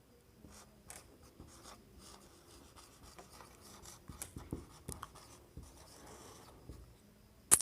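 Chalk or marker scratching and tapping on a board during a lecture on eukaryotic translation, irregular rubbing strokes and taps, quiet and close with no speech.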